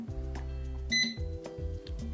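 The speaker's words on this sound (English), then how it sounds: "you push and hold the button till it beeps and start flashing" A short electronic beep from the handheld remote of an Eachine E130 helicopter, rising briefly above a steady low hum, with a few faint clicks after it.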